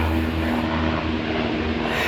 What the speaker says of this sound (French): Oh, un autre avion.